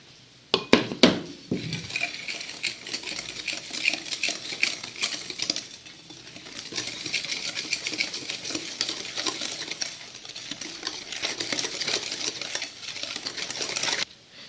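Cookie dough ingredients are stirred in a bowl, with a busy stream of close scraping and clinking at a moderate level, briefly louder near the start.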